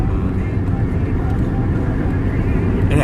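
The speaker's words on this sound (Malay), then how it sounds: "Ada lori besar di depan." A large truck on a road ahead, heard from inside a moving vehicle as a steady low engine and road rumble throughout, with a voice talking over it.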